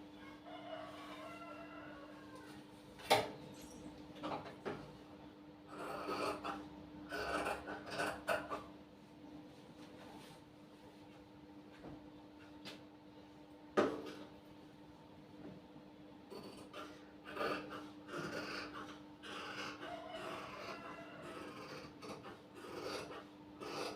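Scissors cut fabric for tailoring a size 38 garment in a quiet room, giving repeated faint, raspy snips and rubbing strokes in irregular bursts, with a few sharper clicks and no talking.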